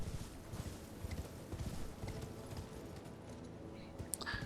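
Horse hooves clip-clop at a steady trotting rhythm on a road in Elden Ring, moderately loud and continuous over faint ambient background.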